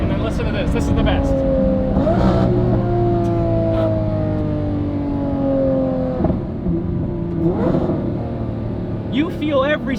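A Lamborghini Murcielago V12 supercar engine accelerating hard, loud and close, its rising tone climbing through several gear changes with brief dips between pulls.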